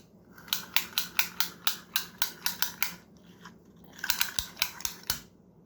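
Tape measure pulled out from its case, giving a steady series of crisp, close clicks at an even pace, a brief pause, then another quicker run of clicks.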